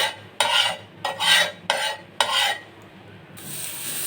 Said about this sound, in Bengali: আমি এখন চুটকিটা দিয়ে দিলাম চুটকিটা ভেজে নেব